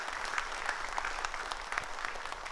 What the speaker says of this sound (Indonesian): Sekali lagi boleh kita berikan tepuk tangan untuk dua narasumber kita